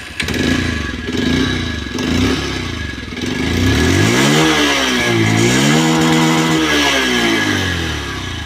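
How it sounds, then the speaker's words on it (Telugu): A Bajaj Pulsar 125 motorcycle, a December 2024 model in near-new condition, idles with a clattering single-cylinder beat, then is revved up and down repeatedly, close and loud. "ఒకసారి బైక్ అయితే స్టార్ట్ అయితే చేసి చూసుకుంటాం మనం"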